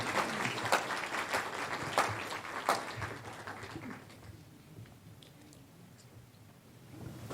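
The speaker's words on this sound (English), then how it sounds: "So a round of applause, please." An audience applauds to welcome a speaker onto the stage at an evening talk, with a burst of clapping and a few sharp claps that fade after about four seconds into quiet room murmur.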